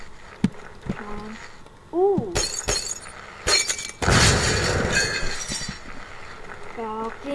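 Glass breaking in the Happy Wheels video game, with sharp bursts of shattering and scattering shards in among other game effects, while a player talks over the top.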